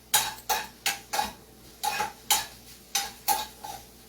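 Cubes are stirred as they fry on high flame in a pan for white sauce pasta, with about ten steady metallic clinks and scrapes from the utensil against the pan at a regular pace.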